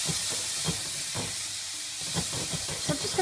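Tomatoes hit a hot pan of curry spices for a pepper and potato curry, giving a loud, steady sizzle and hiss with repeated stirring scrapes throughout and no talking.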